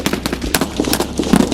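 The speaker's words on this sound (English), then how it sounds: "the entire building erupts with gunfire" Gunfire sound effect for a tabletop miniatures battle, a loud, dense burst of rapid crackling shots and bangs filling about a second and a half, with no voice over it.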